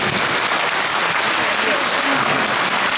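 Audience applause at a singing concert in a hospital, a dense and loud wash of clapping that stays steady throughout, with voices faintly mixed in.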